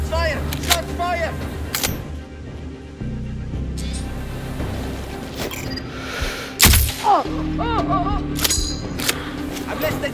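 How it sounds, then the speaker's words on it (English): Gunfire in the video game Sniper Ghost Warrior Contracts 2: a few sharp, scattered shots, one especially loud burst near the middle, set against game ambience and voices. "I'm listening to gunshots here!"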